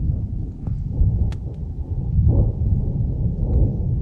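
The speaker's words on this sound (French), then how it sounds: "Je me suis jamais tapé un orage aussi fort là." Continuous deep thunder rumbling through an Alpine thunderstorm, with a swelling roll midway and faint crackles over a steady low roar.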